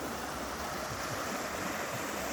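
River water rushing and flowing steadily during an overflow in Barangay Nagba, a continuous broad rushing wash, close and constant.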